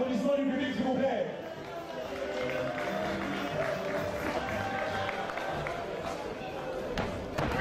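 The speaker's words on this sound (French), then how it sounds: "et les applaudissements du public" Crowd at a traditional wrestling bout clapping and cheering throughout, a steady dense wash of applause with a commentator talking over it.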